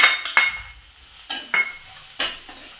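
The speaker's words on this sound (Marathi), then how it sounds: "चांगलं परतून घेऊया दोन मिनिट आपला कांदा सोने रंगावर आपण परतून घ्यायचा आहे" Finely chopped onion frying in oil in a pan, stirred with a utensil that gives several sharp scrapes and clinks against the metal over a steady soft sizzle, close and fairly loud, with no talking.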